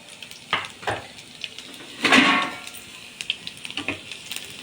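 Chopped garlic hits a little white oil in a frying pan and sizzles, with a louder burst of sizzling midway plus scattered clinks and scrapes of a utensil against the pan.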